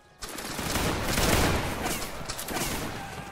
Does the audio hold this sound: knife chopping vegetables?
no